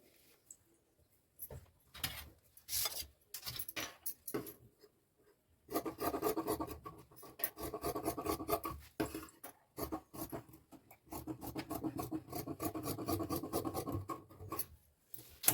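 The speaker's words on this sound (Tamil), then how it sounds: "இதை அப்படியே கட் பண்ணிட வேண்டியதான்." Blouse fabric being cut along a marked line, with rough scratchy snips and rasping bursts, intermittent at first and then continuous, close and quiet with no voices.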